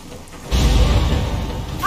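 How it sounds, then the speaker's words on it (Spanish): Rain sweeps in across a dreary Gears of War 4 game scene, a broad hissing wash with low rumble that swells up suddenly after a quiet half second and holds steady, loud and close. "Y comienza a llover."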